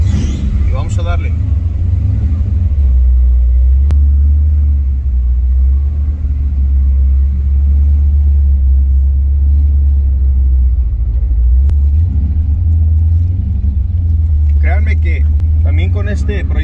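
A Ford Mustang fox body with a 347 V8 idles with a deep, steady, loud rumble that holds throughout, while people talk over it.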